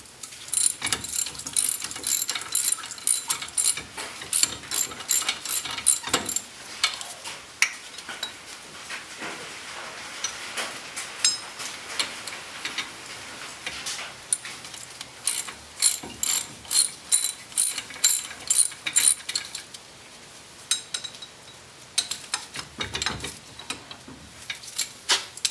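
A hand ratchet clicks in fast bursts as bolts are backed out of a Dana 30/44 axle, crisp close-up ratcheting with short pauses between runs and no talking.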